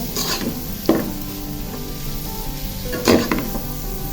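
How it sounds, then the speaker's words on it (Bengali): Fried rice ingredients are stirred and tossed in a hot pan, with a steady low sizzle and two distinct scraping clanks of the spatula against the pan, close up. "মিশিয়ে 2-3 মিনিটের মতো একটু ভেজে নিব।"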